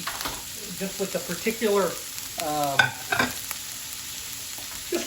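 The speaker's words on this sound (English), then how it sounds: "Got that bacon all stirred in there." Bacon sauce is stirred in a pan on the stove, the spoon scraping in a series of quick rhythmic strokes over a steady low sizzle, close and clear with no talking.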